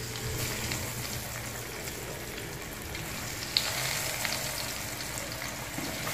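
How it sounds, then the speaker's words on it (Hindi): Potato and egg kababs frying in hot oil in a pan over medium flame, a steady close hiss and crackle of sizzling with one small pop. "ये सारे कबाब हमारे तैयार हो गए, अब इसको हम फ्राई करेंगे।"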